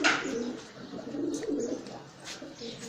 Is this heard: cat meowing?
no